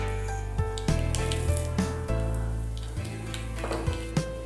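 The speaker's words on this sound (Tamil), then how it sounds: "இப்போ நம்மளுக்கு கடுகு வெடிச்சிருச்சு இல்லையா?" Mustard seeds and urad dal crackle and pop in hot oil, with scattered sharp splutters over a soft sizzle nearby.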